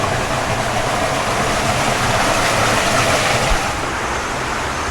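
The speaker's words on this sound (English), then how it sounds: "We've just come across the bridge and you've got this torrent of water there" Torrent of rushing water beside a bridge on a rice field walk in Ubud, Bali, a loud, close, unbroken roar of turbulent flow filling the whole clip with no voices.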